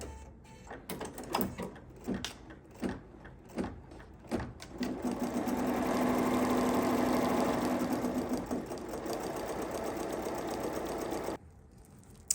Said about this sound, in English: And now we're going to just stitch.